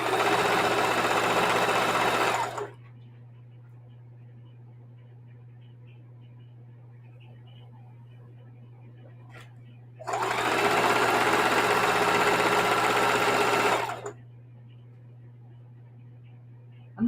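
A heavy duty sewing machine stitching a quilt runs in two fast, steady bursts of a few seconds each, separated by a pause with a low motor hum.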